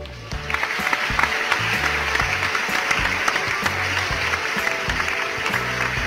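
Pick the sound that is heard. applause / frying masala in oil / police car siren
applause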